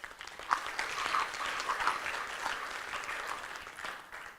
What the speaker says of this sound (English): could I ask you to please give us a round of applause for our panel?